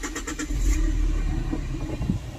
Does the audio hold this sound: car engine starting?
yes